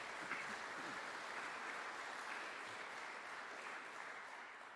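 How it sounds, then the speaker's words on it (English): Audience applause at an awards ceremony, a steady, faint wash of many hands clapping from a distance that gradually fades toward the end. "Yes, yes, please clap it up."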